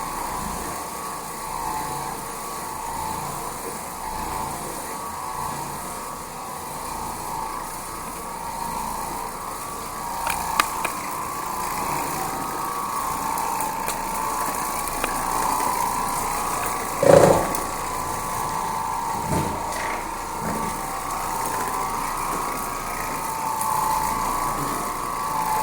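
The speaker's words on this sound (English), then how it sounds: "we got the bonnet wet, and we're going to clean this living room for video and show y'all some more bonnet cleaning." Oreck Orbiter floor machine running with a wet bonnet pad over living-room carpet, a steady mechanical drone throughout with a few brief clunks and knocks, one louder bump midway.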